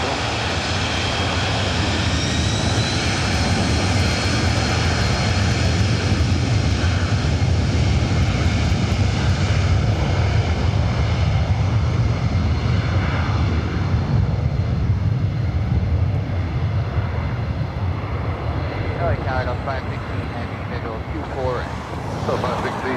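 A 22-year-old Delta Boeing 757-200, originally delivered to Northwest Airlines, landing at LAX, with a loud, continuous jet roar that stays close and steady throughout and thins slightly toward the end.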